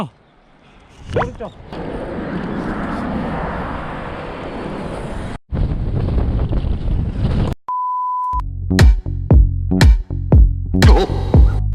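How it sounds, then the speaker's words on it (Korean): Strong gusting wind roars loudly into the microphone during a bike ride, a continuous buffeting rush that cuts out briefly before returning, with short electronic beeps and knocks near the end. "바람 진짜 많이 분다."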